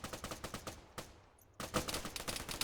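Rapid automatic gunfire rattles in a roleplay video game match, loud and close in fast bursts, then drops out for a brief pause before resuming with heavier overlapping shots, and no one speaks over it.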